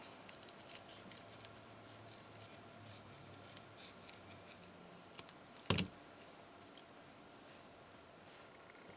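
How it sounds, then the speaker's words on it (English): Scissors snip through scrap canvas to cut out an oval, quiet close crisp cuts in a slow irregular series with one louder sharp snip near the end, no talking. "I'm gonna whack off a square that's about the right size, and then I'm gonna cut an oval"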